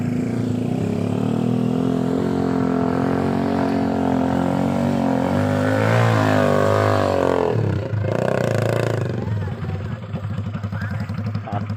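A small motorcycle engine, a Honda Revo used to power a mini truck hauling palm fruit on a slippery plantation track, drones steadily and loudly with shifting pitch as it labors, then changes note near the end.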